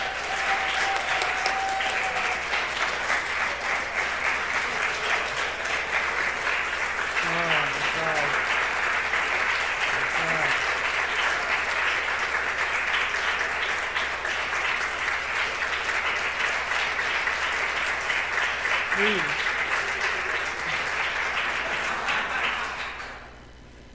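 An audience gives sustained applause welcoming Alan Kazdin at an academic festschrift event, a steady wash of clapping from a large crowd that continues for over twenty seconds before fading out at the end.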